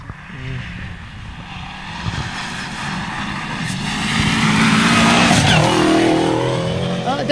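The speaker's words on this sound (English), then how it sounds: "the sweeper flashing lights, the sweeper car coming into view." A rally sweeper car runs through stage six of the Border Counties rally, its engine rising from a distant drone to a louder close pass with revving and shifting, under spectator talk.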